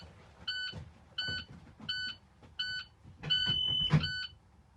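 A school bus child passenger alarm sounds as a series of five sharp, repeated electronic beeps in a steady on-off rhythm, close and fairly loud, over a low engine idle.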